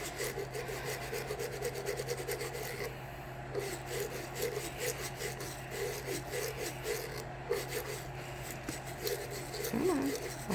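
A glitter-heavy Color Street nail polish strip peeled slowly off a fingernail, giving a close, continuous scratchy rasping and rubbing that lasts throughout, with brief quieter gaps.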